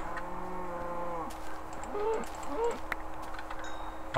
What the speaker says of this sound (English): Oh, there's a cow. Ah, more cows.